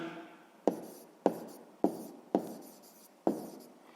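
Pen strokes on paper during a sixth-grade maths lesson, five sharp scratching strokes in steady succession, close and clear, with no voice over them.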